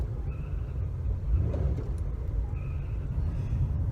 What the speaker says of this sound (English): when I come off the gas, I get that squall.